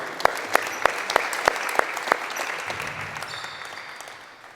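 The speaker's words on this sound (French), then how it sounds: "On peut les applaudir." A small group applauds football players after a coaching session. A few sharp, distinct claps open it, then looser scattered clapping follows and fades gradually.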